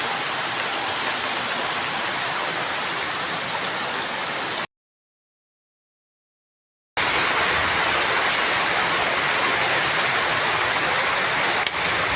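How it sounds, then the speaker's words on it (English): Heavy rain pours steadily in the Philippines on a morning, a dense, even wash of sound with no talk, cut by about two seconds of total silence partway through. "The rain is actually getting a little bit stronger."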